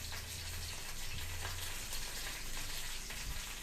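Curry leaves and green chilli sizzle in hot oil for an egg curry, a steady, close, dense crackling hiss with faint spoon movements and no talking.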